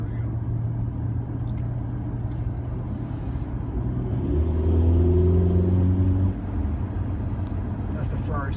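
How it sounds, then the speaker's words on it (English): A turbocharged Ferrari engine heard from inside the car while driving, a low steady rumble that swells into a rising rev around the middle before settling back, with speech tagged during the drive. "That's the Ferrari sound, right?"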